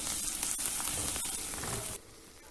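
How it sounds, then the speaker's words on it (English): Chopped ginger sizzles steadily in a hot pan for about two seconds, close and fairly quiet, then the frying drops away abruptly. "Finely chopped or grated ginger, 1 teaspoon. Cook for a minute."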